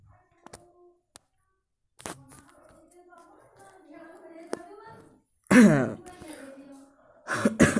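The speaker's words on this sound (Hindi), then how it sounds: "मुझे भी खांसी हुई" A man coughs during a Hindi screen-recording tutorial: a strong, harsh cough burst near the end, then another rough cough starting just before the clip closes. Quieter clicks and murmuring come before it.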